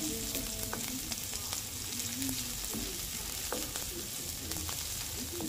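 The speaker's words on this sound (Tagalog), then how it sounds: "Lutuin lang natin yung sibuyas. Kailangan luto ang sibuyas." Onions sizzle and fry steadily in a pan, a constant crackling hiss with occasional light stirring scrapes and some faint background tones, no talking.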